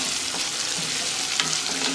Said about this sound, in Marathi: आता याला चांगला आपण लाल रंगावर परतून घेऊ.